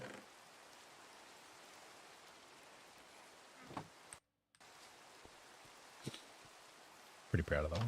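Rain falls in the Minecraft video game as a faint, steady hiss with soft scattered clicks, briefly cutting out once before louder sounds break in at the end.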